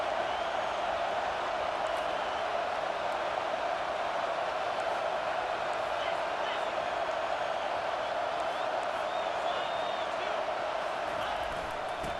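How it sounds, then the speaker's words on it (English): Stadium crowd noise in College Football 25, a steady dense roar of many voices that holds loud and unbroken throughout, with faint higher cheers now and then. "It is getting loud as this crowd tries to help its defense."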